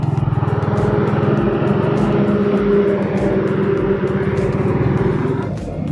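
A 125 cc motorcycle rides along a road, its engine droning steadily and loudly throughout with a continuous close-up rumble.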